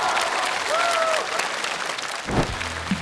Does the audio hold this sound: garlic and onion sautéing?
no